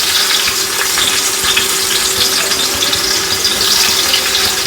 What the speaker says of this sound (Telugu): జస్ట్ ఫ్రైడ్ ఆనియన్స్ చేసుకోవడానికి.